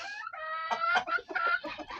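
Broody hens cluck and call loudly up close in a coop, a string of rising, warbling clucks overlapping in quick succession.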